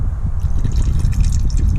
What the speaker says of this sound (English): So all I need to do now is run the tap like this